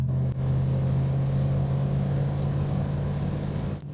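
A Triumph Stag cruises at speed in overdrive, around 1,500 rpm, with a steady, moderately quiet engine drone and a low, even hum that holds without voices.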